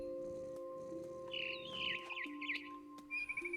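In What Remains of Edith Finch, a bird chirps and warbles in quick, bright bursts over a steady tonal game ambience, fairly close and clear, with a few short tweets trailing off at the end.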